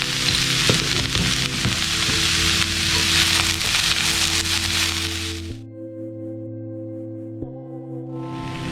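Sliced onions sautéing with salt in a pan for pepper chicken, a loud continuous sizzle with stirring clatter that cuts off abruptly, then a quieter steady background hum before the sizzle returns.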